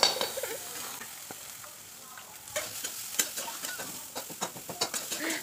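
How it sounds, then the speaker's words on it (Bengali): Sliced onions frying with a bay leaf in a hot pan, a steady quiet sizzle broken by scraping stirs that grow more frequent and sharper in the second half, with no voices. "পেঁয়াজটা এখন ভালো করে হালকা একটু লাল লাল করে ভেজে নেব"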